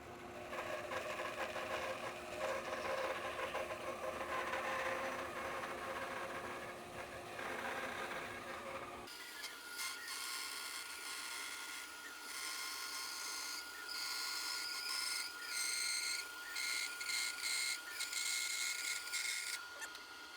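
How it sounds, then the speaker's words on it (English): A workshop dust collector switches on partway through, its steady motor whine and airflow rushing continuously and fairly loud in a woodworking shop, replacing the earlier mixed machine noise. "So let's go ahead and turn the dust collector on."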